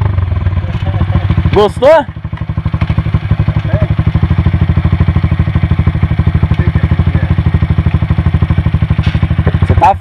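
A Honda motorcycle rolls down a steep slope, its engine putting out a steady, rapid chugging pulse that runs through the whole stretch, with a short burst of people talking and laughing early on.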